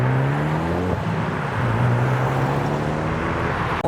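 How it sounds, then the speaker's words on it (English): An Aston Martin and a Lancer Evo 2 GSR drive past at a custom car meet, engine tones rising and falling as they pass nearby, with a second engine note taking over midway. "There goes the Aston Martin and the Lancer Evo 2 GSR."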